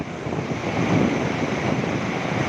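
Strong wind at a riverside buffets the microphone with a continuous roaring rush, steady and loud, with no voices.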